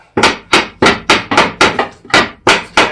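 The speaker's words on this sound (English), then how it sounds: "But you can always use a hammer." A steady series of sharp hammer taps on a wooden pallet board, about nine evenly spaced knocks, loud and close with no talking.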